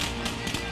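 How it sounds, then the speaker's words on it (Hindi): A brief, dense crackle and boom of fireworks bursting over Washington, DC, during America's 250th anniversary celebration, loud and continuous with sharp pops over a roaring wash. "अमेरिका के जश्न की सबसे बड़ी तस्वीर आई आतिशबाजी के तौर पर।"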